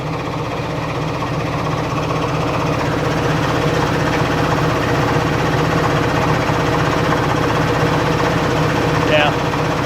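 A Snap-on air compressor with a modified head gasket cooling setup runs continuously, a loud steady mechanical hum and drone close by, with someone talking over it.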